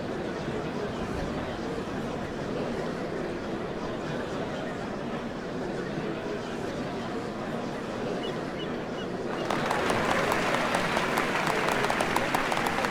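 A crowd in the video game Final Fantasy XIV murmurs as a dense wash of noise. Partway through, a brighter, louder swell of applause-like cheering rises and carries on to the end.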